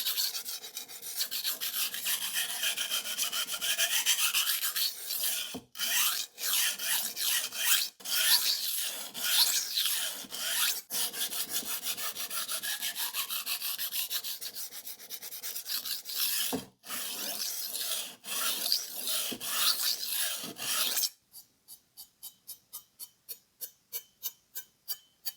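A knife edge is stroked back and forth on a Takayuki Shibata Bitey Finisher whetstone to raise a burr, making steady close rasping scrapes that give way to lighter, rhythmic strokes at the end.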